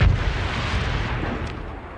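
A heavy artillery fire-support strike in the space strategy game Starsector, heard as a loud booming blast that rolls into a sustained rumbling roar for about two seconds, without speech.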